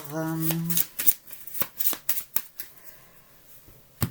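Oracle cards are shuffled by hand in a run of soft, irregular riffling snaps and flicks, close and clear, following a brief sung or hummed tone at the start.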